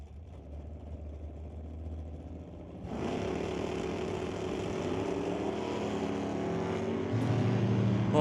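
A drag race launch pits a Chevy Monte Carlo against a Blazer: steady engine rumble idles, then jumps sharply into a louder, sustained roar that keeps building toward the end.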